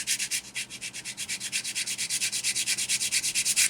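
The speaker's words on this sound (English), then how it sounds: "So I'm going to start with our rougher sander." A rough sander rubbed rapidly back and forth along the edge of a model car part, a fast regular scratching rhythm of about eight strokes per second, close and alone.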